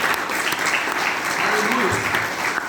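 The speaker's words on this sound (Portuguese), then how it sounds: "Você pode dar um salve de palmas para Jesus?" A church congregation applauds in a loud, sustained burst of clapping, with voices mixed in underneath.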